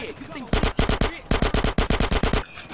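Bursts of automatic gunfire in GTA San Andreas, rapid evenly spaced loud shots in two long volleys separated by a short pause, close and dominant, with a faint voice before the shooting.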